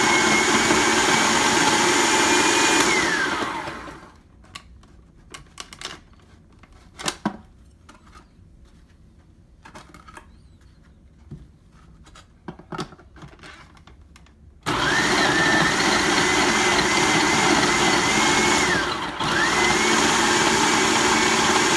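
Food processor chopping torn chunks of French bread, a loud steady motor whir running for several seconds, stopping for a stretch of faint clatter, then starting up again and whirring on.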